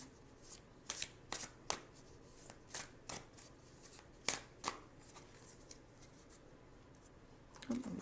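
Osho Zen tarot cards being shuffled by hand, giving a series of crisp riffling bursts at irregular intervals over a quiet, soft background.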